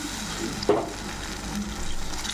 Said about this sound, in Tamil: நல்லா தக்காளி வதங்கி எண்ணெய் பிரிஞ்சு வந்திருக்கு பாருங்கள்